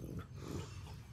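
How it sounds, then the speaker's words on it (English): A dog growls low and steadily for about a second, close by, in a quiet morning room. "Are you growling?"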